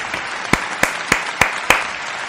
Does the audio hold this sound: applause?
yes